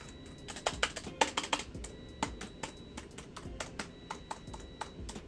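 Someone types on a newly unboxed ergonomic keyboard whose keys feel softer than mechanical ones, producing quick, close, irregular key taps in bursts with short pauses between them.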